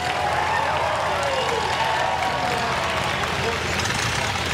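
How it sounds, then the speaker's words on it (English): A crowd at a pig and Ford race applauds and cheers the first place winner, a steady wash of clapping and outdoor hubbub with an announcer's voice over it. "Give him a round of applause, ladies and gentlemen."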